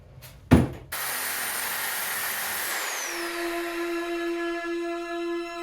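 A power saw blade cuts a differential gearbox in half. A sharp impact comes first, then a loud, sustained high-pitched grinding whine that settles into a ringing, tonal hum as the blade keeps spinning. There is no speech.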